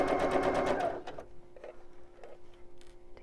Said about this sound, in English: And then I'm just stitching along the line.